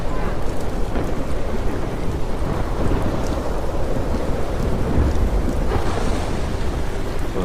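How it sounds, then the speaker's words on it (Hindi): Heavy rain pours down in a dense, steady roar, with low rumbling like thunder rolling underneath. "बारिश कम होने की जगह और ज्यादा बढ़ जाती है"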